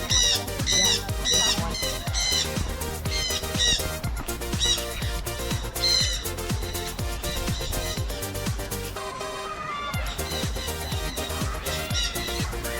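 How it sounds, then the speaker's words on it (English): Parakeets squawk loudly and without pause high in Brazilian forest treetops, a dense near chorus of harsh repeated calls, shrill and raucous, with a brief lull near the end before the squawking picks up again. "it's the parakeets that steal the show, loud and impossible to miss"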